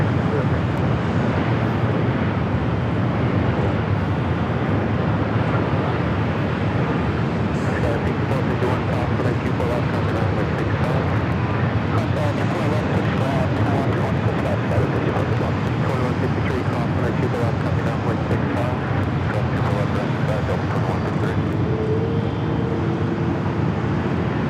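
An airliner arriving at Los Angeles LAX airport, a steady broadband roar of jet engines that holds loud and even throughout against the airport background, with no clear voices.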